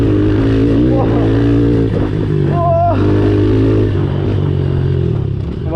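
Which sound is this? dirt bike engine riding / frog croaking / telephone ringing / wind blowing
dirt bike engine riding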